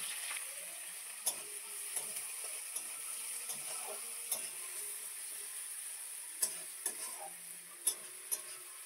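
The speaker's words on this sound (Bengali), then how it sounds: "এবার আমি পেঁয়াজ কুচিগুলো দিয়ে দেবো।" Chopped onions with whole cumin seeds frying in hot oil give a steady, faint sizzle, broken by occasional light clicks of a spoon stirring the pan, nearby and quiet with no voices.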